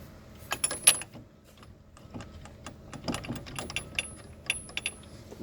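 Ratchet with socket tightening the front lower ball joint bolts on a 2002 Jeep Liberty, giving bursts of rapid clicking pawl ticks in several short runs, close and fairly quiet, with small metallic knocks between strokes.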